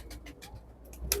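Soft pigeon cooing repeats in a few low pulses with faint rustling, quiet and somewhat distant, no voices.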